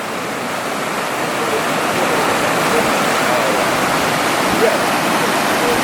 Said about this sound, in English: Here is the river.